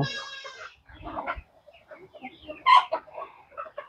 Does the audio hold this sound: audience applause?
no